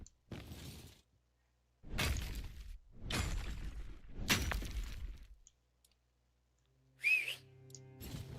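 A short summoning whistle for a horse in the video game Tainted Grail: The Fall of Avalon rings out once near the end, following several loud swooshing, crackling bursts with silent gaps between them.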